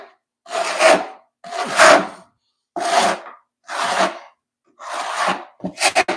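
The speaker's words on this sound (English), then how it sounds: "I'll be placing my notch trowel in here and running" A notch trowel spreading tile adhesive for a large format tile installation, five close, rasping scraping strokes at a steady rhythm with short pauses between, followed by a few quicker strokes at the end.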